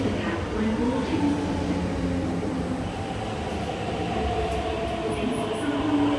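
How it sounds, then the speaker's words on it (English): Metro train rumbling into Kowloon Tong station on the Hong Kong MTR, a steady loud roar of wheels and motors with whining tones rising and falling throughout. "A train to Admiralty is arriving."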